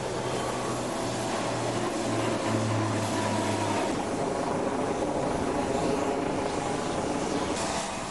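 Military jets and ground-attack helicopters fly overhead during an air show formation, a continuous broad roar of engines with a low steady drone, loud and unbroken throughout, no talking.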